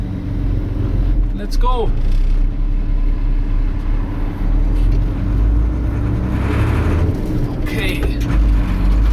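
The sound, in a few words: old Volvo fire engine driving off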